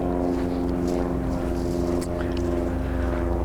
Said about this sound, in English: there's a helicopter flying overhead